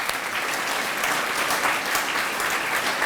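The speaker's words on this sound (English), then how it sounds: "So big round of applause to all of you." Volunteers at an awards ceremony receive a steady round of applause, a full, even clatter of many hands clapping throughout with no pause.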